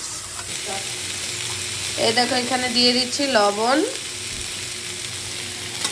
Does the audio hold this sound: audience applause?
no